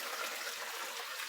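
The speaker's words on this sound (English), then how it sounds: "I'm just going to lift up the whole insert and pour it in" Hot chicken soup broth pours from a lifted pot insert in a short gushing splash of liquid, close and moderately loud, lasting only about a second with no talk.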